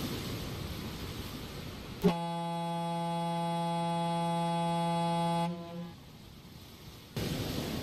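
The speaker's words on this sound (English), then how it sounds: "Every so often, a ship will blow their foghorn." A ship's foghorn sounds one long, loud, steady blast lasting a few seconds over harbor ambience, then cuts off, with a tugboat and a blue ship nearby.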